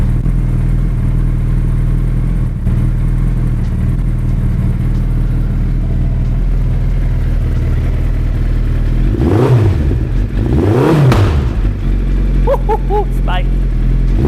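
Suzuki Hayabusa with an aftermarket exhaust idling loud and steady, then revved twice in quick swelling bursts, with a few lighter blips near the end.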